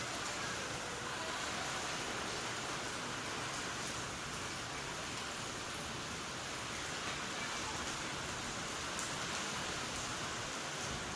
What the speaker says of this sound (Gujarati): ગાજવીજ સાથે જોરદાર વરસાદ પડી રહ્યો છે ઇંગોરાળામાં